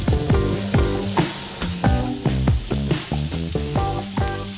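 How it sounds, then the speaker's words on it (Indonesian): Chicken breast stir-fried for laksa in a home kitchen: a metal spatula clanks and scrapes rhythmically against the pan in quick, ringing strokes over a steady sizzle, close and fairly loud, with no talking. "Terus lanjut kita tumis lagi sampai ayamnya berubah warna"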